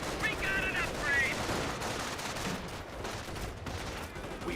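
Distant, steady MG42 machine gun fire rattles beneath a busy battle soundscape in Company of Heroes, with continuous gunfire and explosions blending into a dense, moderately quiet wash throughout.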